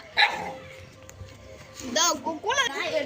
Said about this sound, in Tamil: இது எங்கள் நாய் காய்ஸ்.